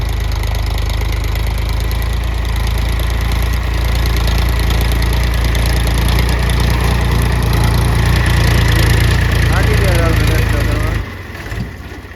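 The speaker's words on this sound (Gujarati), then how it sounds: "ટ્રેક્ટર આટા પાવડી મારે અત્યારે" A tractor drives a rotavator through a field being tilled for millet sowing, its engine a loud, continuous, close drone that drops off abruptly near the end.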